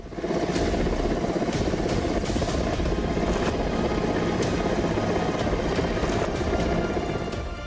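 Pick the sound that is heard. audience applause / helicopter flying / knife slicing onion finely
helicopter flying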